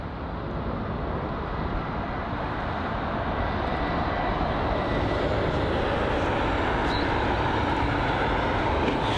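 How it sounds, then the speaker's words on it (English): A Virgin Atlantic Boeing 787-9 Dreamliner departs from London Heathrow, producing a continuous broadband jet roar that stays steady and fairly loud throughout, with no talking. "you can see the Virgin Atlantic 787-9 Dreamliner, which is just on departure now"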